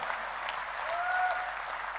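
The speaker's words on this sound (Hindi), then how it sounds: "एक बार जरा शांति तूफान के लिए तालियां बजाइए" Brief burst of crowd applause at a Hindi poetry gathering, many hands clapping together at a steady, moderate level for a couple of seconds.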